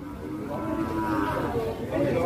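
A very large cow at a busy livestock market gives a loud, drawn-out moo lasting a couple of seconds, with crowd chatter murmuring underneath.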